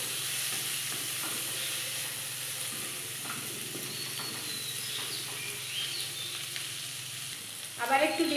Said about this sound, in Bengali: দেখো গাটকলটা হয়ে এসেছে, এবার একটু ভাজা ভাজা হয়ে গেছে।